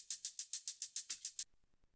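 A high-passed triplet hi-hat loop ticks in a rapid, even pattern of about ten thin, hissy hits, only the bright top end left, then stops, leaving faint low clicks.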